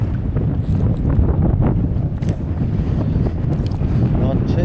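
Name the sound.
west wind blowing while fishing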